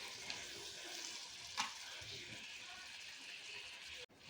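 Paneer bhurji frying on high flame in a dhaba-style pan, a steady close sizzle with faint stirring scrapes and a brief clink near the middle, then a sudden cut near the end.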